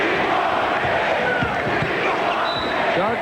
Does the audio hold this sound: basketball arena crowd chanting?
yes